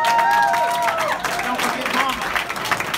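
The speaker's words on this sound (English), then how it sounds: "Everybody give him a round of applause." A crowd applauds at a county commission event, sustained clapping mixed with whistles and cheers that ripples steadily and stays loud throughout.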